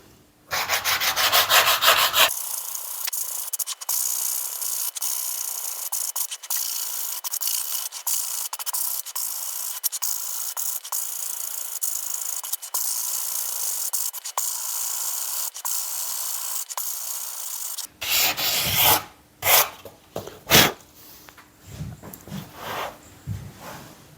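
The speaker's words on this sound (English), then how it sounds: "And now I will manually sand just to get cork and the veneer on the same level." Cork and wood veneer are hand sanded on a wooden ceiling lamp, giving a long run of close, scratchy rubbing strokes, then a few shorter, sharper strokes at the end.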